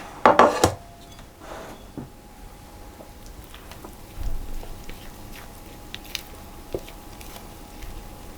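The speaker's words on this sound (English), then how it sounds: "I'm going to put that into our cake tin" Almond cake batter with butter mixed in is scraped from a bowl into a cake tin: a few loud scraping clunks near the start, then soft, quiet squishes and light taps.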